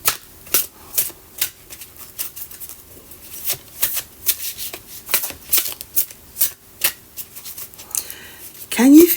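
A deck of tarot cards is shuffled again and again in quick riffling bursts, close and crisp, and a brief voice comes in at the very end.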